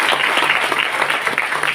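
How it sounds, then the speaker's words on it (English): Applause fills a crowded event hall, a dense steady patter of many hands clapping at close range with no break for the whole short stretch. "Okay, please give a big round of applause."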